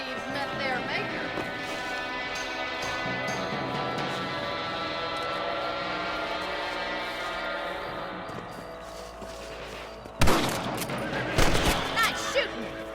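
Rifle gunshots from rabbit hunting in Red Dead Redemption, a few sharp cracks near the end following a stretch of game music and voices talking.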